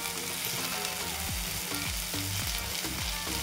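Capsicum sautéing in a pan for paneer bhurji gives a loud, continuous close sizzle with repeated scraping strokes of a spatula tossing the pieces, and no voices.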